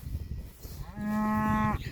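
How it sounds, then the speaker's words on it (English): A cow in an autumn field gives a single long, drawn-out moo in the second half, loud and close against a quiet outdoor background. "Oh, the cows think they're going to get new grass."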